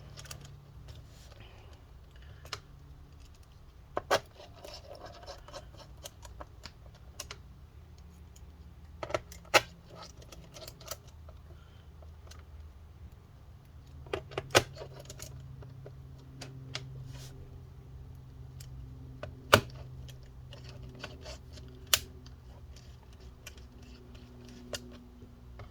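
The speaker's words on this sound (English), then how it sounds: "go ahead and finish putting back all these screws" Screws being put back into a Lenovo IdeaPad 320-15IKB laptop, with scattered small metallic clicks and ticks spread across a quiet stretch, close and faint, with no talking.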